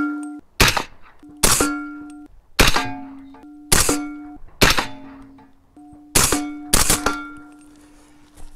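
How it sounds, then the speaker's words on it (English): Rifle firing subsonic 200-grain Winchester rounds through a Sandman S with a muzzle brake, seven sharp, moderately loud shots at a slow, even pace, each followed by a ringing metallic ping from a steel target. "now we're going to shoot some subsonic"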